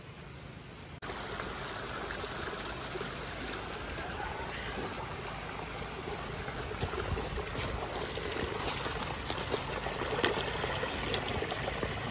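Spring water flows through the line of a gravity-fed off-grid system into a tank, a steady gurgling trickle that starts after a second and continues evenly, moderately close, with no talking.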